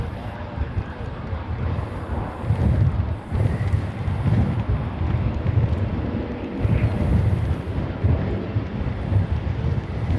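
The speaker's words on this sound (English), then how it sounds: "It's very windy." Strong gusty wind batters the microphone at Honolulu airport, a steady loud rumbling roar that swells and eases in gusts for the whole stretch, with no other clear sounds above it.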